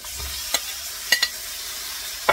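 Onion and chili frying in a pan while being stirred, a soft continuous sizzle with a few sharp scraping clicks of the utensil against the pan.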